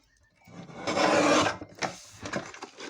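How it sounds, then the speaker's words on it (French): A small paper trimmer slices through paper for a handmade card, heard as a close, brief scraping swish followed by a few lighter rustles and clicks in an otherwise quiet room. "Donc moi j'ai ce petit massicot, donc après vous utilisez ce que vous avez."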